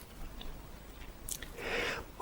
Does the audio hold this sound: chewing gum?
yes